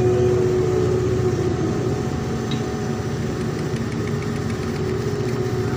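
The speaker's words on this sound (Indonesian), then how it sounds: "Nah, ini perahu mau datang." Steady idling drone of a boat engine approaching in a harbor near a docking cargo ship, a constant mid-pitched hum with faint vibration and no voices.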